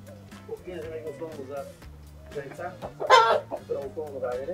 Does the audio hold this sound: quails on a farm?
yes